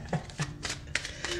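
Tarot cards are shuffled close up in a few quick riffling bursts, soft and papery, with short gaps between them and no talking.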